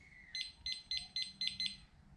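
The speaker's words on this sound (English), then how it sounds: "And there's your alarm. So this is 70 decibels on this. It's pretty loud." A Thermoworks Dot single-probe meat thermometer sounds its alarm: a run of six sharp, evenly spaced high-pitched beeps, close and loud over a faint background.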